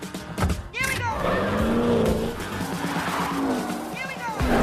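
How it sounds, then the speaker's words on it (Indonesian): Race cars in a street race in an action film skid with screeching tires and revving engines, up close and loud, while voices talk over the action throughout. "Singkatnya balapan pun dimulai, di mana Dom dan Letty saling menunjukkan skill mereka"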